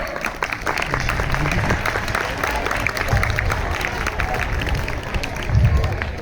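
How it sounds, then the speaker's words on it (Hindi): Applause from a school crowd at a Class XII farewell function, dense steady clapping filling the whole stretch with crowd noise and a few louder bursts near the end. "हमारे लिए तो तालियां बजा दो।"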